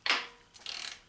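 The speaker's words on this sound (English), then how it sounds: "We're just torquing it down into a plastic fitting." Torque wrench tightening a fitting into a plastic radiator fitting on a 2003-2007 Honda Accord, a sharp close click followed by a short run of quick ratcheting clicks.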